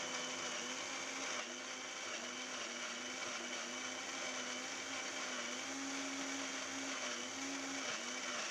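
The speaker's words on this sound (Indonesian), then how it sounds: "Lanjut ke proses pemblenderan." An electric blender runs continuously, grinding boiled corn for an iced corn drink with a steady, loud motor whir and no pauses.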